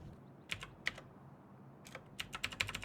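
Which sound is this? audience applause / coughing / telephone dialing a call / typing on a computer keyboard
typing on a computer keyboard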